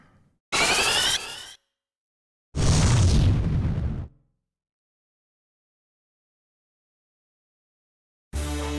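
Fire spell effects in Final Fantasy IV on PSP, heard as three separate loud bursts with crackling whooshes and booms, broken by silent gaps.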